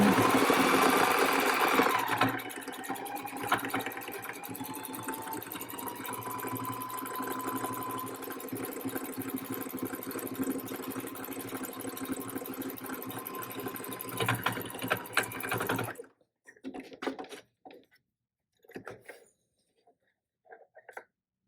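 A sewing machine stitches a drawstring bag in a long, steady mechanical whir with a rapid needle chatter, running continuously for about sixteen seconds before stopping, followed by a few short bursts of handling noise.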